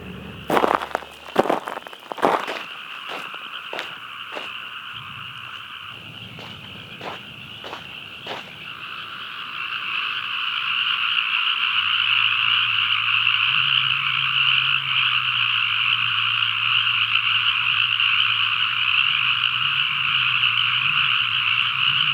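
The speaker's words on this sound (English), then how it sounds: "You can hear hundreds and hundreds of frogs." A dense, continuous chorus of hundreds of frogs croaking together by a dry lake bed, loud and steady, preceded by a few sharp pops at the start.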